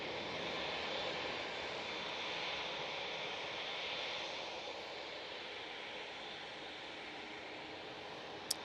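A holiday airliner bound for Dalaman takes off from a Manchester Airport runway, its broad, steady jet roar heard from a distance, slowly fading, with a brief click near the end.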